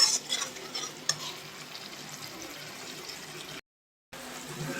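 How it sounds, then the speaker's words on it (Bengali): Onion paste sautéing in a pan for a Bengali bhola fish curry, a soft steady sizzle with stirring scrapes near the start and a brief dropout of silence near the end. "পেঁয়াজ বাটাটা কষাতে কষাতে"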